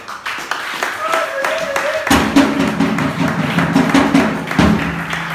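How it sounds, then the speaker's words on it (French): A church congregation claps loudly and in an irregular, dense way during worship, with voices and singing mixed in beneath the clapping. "Applaudissons le roi de roi."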